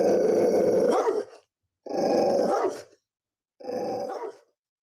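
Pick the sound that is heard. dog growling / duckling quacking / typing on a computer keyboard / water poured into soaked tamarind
dog growling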